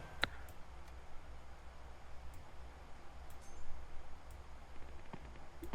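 Computer mouse clicking during a PUBG game session, a few faint sharp clicks scattered over quiet background hum, close and isolated with no talk.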